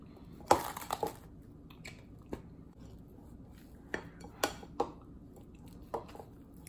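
Green tea chocolate mochi dough, just microwaved on high for three minutes, being stirred in its bowl: a few sharp knocks and scrapes of the utensil against the dish, scattered irregularly over a faint background.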